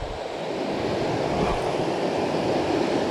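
River rapids on a North Georgia trout stream, a loud steady rush of churning water close by, with no voices over it.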